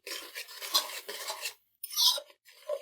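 Green chillies, cut ginger and coriander being stirred into mutton karahi in the pan: scraping and clattering spoon-on-metal sounds in short bursts, close, separated by a brief silence.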